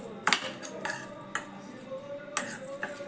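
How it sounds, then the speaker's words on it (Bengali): A spoon clinks and scrapes against a bowl while paneer filling with chili flakes and salt is mixed, several sharp metallic taps spaced irregularly over a quiet background, close by with no talk. "এবার খুব ভালো করে সব কিছু একটু মিশিয়ে নেব।"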